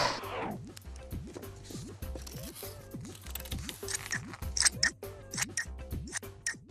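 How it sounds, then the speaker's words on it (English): Scissors snip through paper to cut out drawn shapes for a craft project, a quick run of close, crisp cuts and rustles over a steady musical backing with no talking. "Now we can cut these shapes out, but be careful because scissors are sharp."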